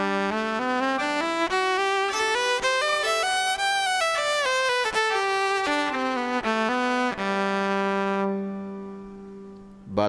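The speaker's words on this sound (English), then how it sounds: "this amazing Viper acoustic electric violin" A Viper acoustic electric violin plays a bowed melody with a bright, slightly thin tone and no impulse response, phrases rising and falling before settling on a held note that fades.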